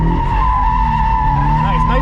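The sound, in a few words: modified FRS car drifting, tires skidding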